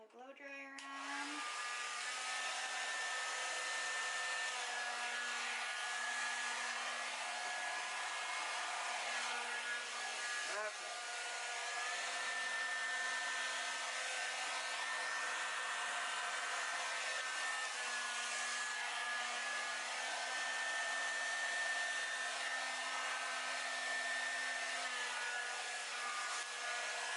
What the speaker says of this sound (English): Put my blow dryer on.